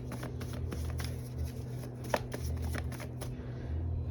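A deck of tarot cards being shuffled by hand in repeated riffling bursts, close and fairly quiet over a steady low hum, with no talking.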